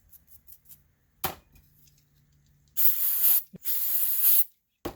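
Electronics cleaner sprayed on the windings of an HWH RV hydraulic pump motor, heard as a few short puffs followed by two long, loud, close hissing bursts separated by a brief pause.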